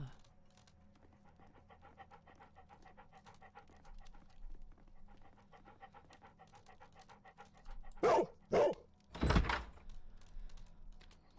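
A dog pants steadily and rhythmically in the Sherlock Holmes Crimes and Punishments video game, quick close breaths running throughout, broken near the end by a few loud thumps like a door.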